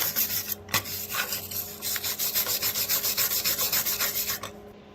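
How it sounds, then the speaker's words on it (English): A wire brush scrubs back and forth over a MIG lap weld joining thick metal to thin sheet metal, making a steady rhythmic rasp of about a dozen quick strokes that is close, fairly loud and heard alone. "Give me a wire brush so I can clean this up just a little bit so you can see it better."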